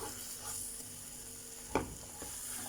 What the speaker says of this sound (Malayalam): ഈ 1 കപ്പ് തിൻ മിൽക്കിലിട്ട് വേവിച്ചത് കുറുകുന്നവരെ മിക്സ് ചെയ്തുകൊണ്ടിരിക്കണം